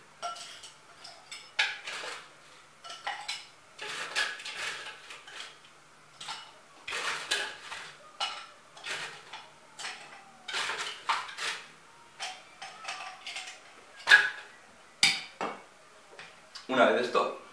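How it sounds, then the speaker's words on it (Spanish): Ice cubes clinking and clattering into a glass while mixing a Bloody Mary, a string of irregular sharp knocks and rattles, close and fairly quiet, with no other sound between them. "Ahora pondremos el hielo en el vaso con cuidado de que no salpique"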